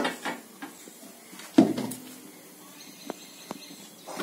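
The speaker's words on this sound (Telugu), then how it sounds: "పొయ్యి ఆన్ చేసి గిన్నె పెట్టి," A gas stove clicked on and a metal pot set down on the burner, a sharp clunk of metal followed by a few lighter taps and knocks in a quiet kitchen.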